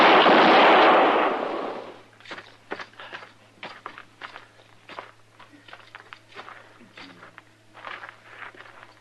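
Gunshots in a Western shootout, two sharp cracks in a radio drama, followed by a scattered run of fainter clicks and knocks over a low steady hum after a loud opening burst of noise.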